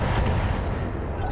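Mech weapons fire on a target in the video game BattleTech, a heavy, dense blast of booming gunfire and rumble that fills the moment, loud and continuous with no voices.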